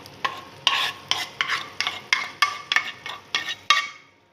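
Sauce being mixed with onions in a pan, a quick run of about ten sharp scraping stirs with light sizzling, fading out at the end.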